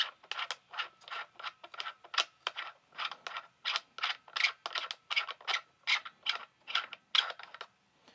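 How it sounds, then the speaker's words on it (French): A small SS50 silencer from GG Armament is unscrewed from an ARP 9 3.0 airsoft replica, giving a rapid series of about two dozen close, crisp ratcheting scrapes in an even rhythm, with no talking. "on a un petit silencieux. Alors je vais le dévisser."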